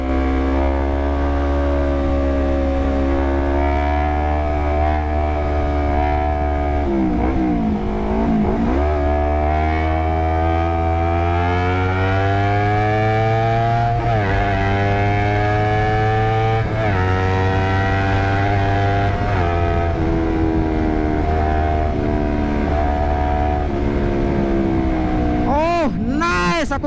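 Honda CBR 250RR sport motorcycle engine revving steadily through rising and falling pitch sweeps on a test ride, loud and close, with wind rush, a brief burst of rapid high revving near the end.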